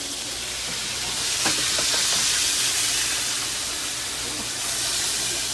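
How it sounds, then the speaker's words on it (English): Butter, garlic and herbs hiss and spit around a beef tenderloin steak in a hot pan, a steady loud close sizzle with a brief burst of small pops partway through. "that's when all those oils are flash frying in the herbs."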